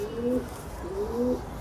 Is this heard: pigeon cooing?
yes